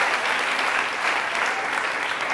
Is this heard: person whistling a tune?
no